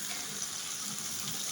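Broth poured into a pan of pangas fish curry cooking with yardlong beans, a steady close splashing wash of liquid with no break and no voices.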